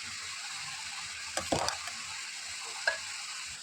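Ground paste added to simmering chicken kurma in a pan, a steady close sizzle and frying hiss throughout with a few brief stirring scrapes and clatters.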